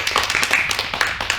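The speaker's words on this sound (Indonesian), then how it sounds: "Ya tepuk tangan." A class applauding during a microteaching mathematics lesson, a short burst of dense, fairly loud clapping from many hands with no talk over it.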